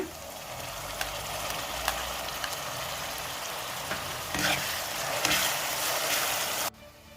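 A pan of anda bhurji sizzles loudly and steadily as tomato goes in, the hiss swelling briefly midway before cutting off abruptly near the end.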